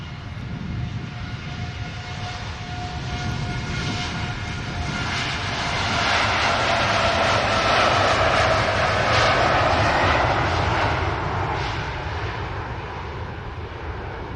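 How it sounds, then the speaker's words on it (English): A Boeing Dreamliner airliner takes off at Manchester Airport, its engine roar swelling from a distance to a loud broad peak midway, then slowly fading, with no talk. "Here's to a Dreamliner heading to Cancun."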